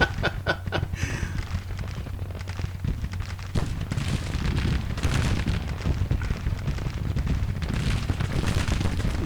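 Three-inch artillery rifles firing in a Civil War strategy game, Grand Tactician, heavy booms and dull explosions rolling repeatedly over a constant rumbling battle din, mostly without talk.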